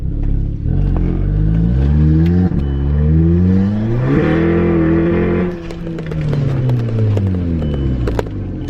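A VW Golf MK5 GTI with a newly fitted K04 turbo and DSG gearbox on its first drive after a repair, the engine revving up and down through several gear changes, loud from inside the car with no talk.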